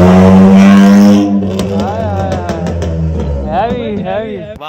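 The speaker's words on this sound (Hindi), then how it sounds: "गाड़ी की आवाज आ रही है" A loud Suzuki Khyber engine revs and roars close by through a newly fitted exhaust, with sputtering bursts as the car accelerates, while a person talks over it.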